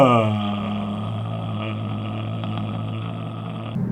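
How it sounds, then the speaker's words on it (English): Toyota hybrid engine with e-CVT transmission holding a steady, droning hum at constant pitch, a brief rise at the start settling into an even, unchanging note close by. "Whereas this makes the engine sound like this."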